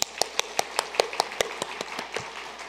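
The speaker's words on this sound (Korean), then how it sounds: "한번 감사의 박수 한번 하겠습니다" A church congregation at a worship service claps in thanks, a steady, evenly spaced run of about a dozen sharp claps in unison, close and clear, with no talk over it.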